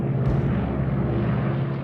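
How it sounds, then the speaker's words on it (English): RAF heavy bomber aircraft flying, a loud continuous low engine drone that fills the whole stretch without a break. "Operation Overlord opened with RAF heavy bombers pounding the coastal guns of the Atlantic Wall."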